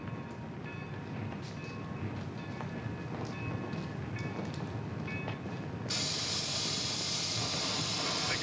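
Trains idle in a rail yard in a 1950s setting, a steady rumble with faint clanks and rattles, then a loud broad hiss of released steam or air takes over near the end.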